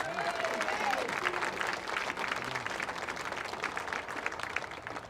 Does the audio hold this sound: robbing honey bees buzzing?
no